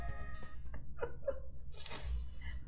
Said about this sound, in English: I hear a cat behind me.